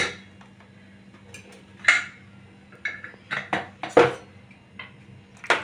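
Spoon scraping and knocking against a pot while cooked dal is stirred, short irregular clinks and scrapes, close and moderately loud with quiet gaps between.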